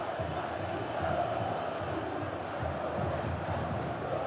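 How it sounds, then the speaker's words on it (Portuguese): Football stadium crowd at a 2006 Copa Libertadores match between Corinthians and Deportivo Cali, a steady, dense roar of many voices chanting together from the stands, continuous and fairly loud throughout. "É por isso que a torcida grita o nome dele."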